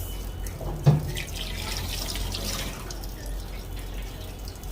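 Tap water runs steadily into a sink while herbal whitening black soap is worked into a lather, a broad continuous hiss with a brief splash near the start.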